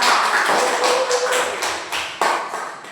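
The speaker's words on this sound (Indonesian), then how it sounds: "kasih aplaus untuk kelompok 2" A classroom group claps for a student group, a dense burst of many hands clapping with a few louder individual claps, tapering off.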